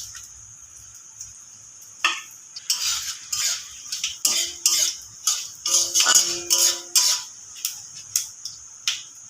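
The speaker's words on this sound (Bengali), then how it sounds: "ফোড়নটা খুব ভালো করে ভাজা হয়ে গেছে।" Bay leaf pieces, dried red chillies and five-spice seeds crackle and spit in hot mustard oil in a kadai, in a run of sharp, rhythmic sizzling pops that grows busier after the first couple of seconds, with no talking.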